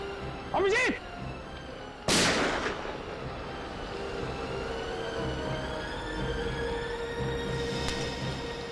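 Two sharp, loud gunshots crack out in a tense police-drama confrontation, the second a heavy blast with a long tail, surrounded by quieter background tones.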